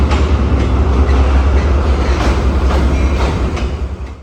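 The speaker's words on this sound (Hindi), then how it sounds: "ट्रेन तो आ गई" Awami Express train pulling into a railway platform, a loud continuous rumble of wheels and carriages with rhythmic clacks, close by and steady before easing slightly at the end.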